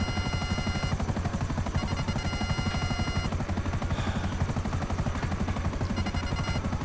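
A Buzzard attack helicopter in GTA 5 Online thrums with fast, steady rotor chopping, loud and close throughout, with no talk over it.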